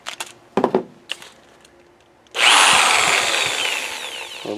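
A few scattered knocks and clatters, then a power drill whines to life and grinds steadily into concrete, loud and close.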